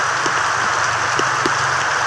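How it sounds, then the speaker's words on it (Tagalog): Heavy rain pours down steadily, a dense hiss of drops pattering on surfaces nearby, with a few louder splats standing out. "lakas na ng ulan."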